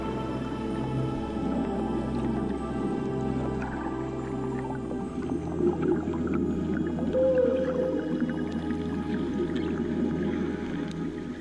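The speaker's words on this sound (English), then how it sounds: "We freeze and let the whales choose their own path past us." Humpback whales calling close to a boat at sea, a rising moaning tone over a steady low engine hum and water noise, continuous and fairly loud.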